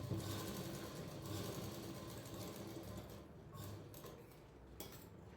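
Sewing machine running a finishing seam on a blouse, a faint continuous whirring with light clicks, alone without talk.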